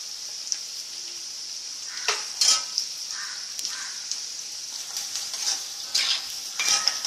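Onion frying in a pan with a little sugar, a steady soft sizzle broken by several louder bursts of stirring and scraping, close and without voices.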